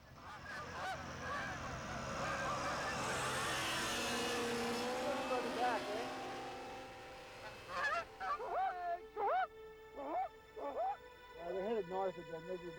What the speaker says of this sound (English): The geese and Joe disappear over the horizon